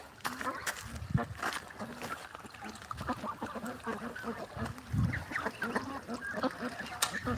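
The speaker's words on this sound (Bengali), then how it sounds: "দুইটা হাঁস বসে আছে দেখেন" Ducks and geese honk and quack in scattered calls on a duck farm, fairly close, while people talk throughout.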